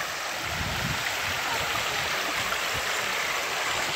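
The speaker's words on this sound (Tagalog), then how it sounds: "Ito na po ang tubig, oh." Water rushes in a flowing stream near Malalatawan Falls in Floridablanca, a loud, steady broadband roar with no pauses.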